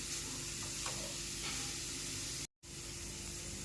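Grated carrot frying in ghee for gajar halwa, a steady dense sizzle and hiss close up, with faint stirring scrapes and a brief dropout near the end.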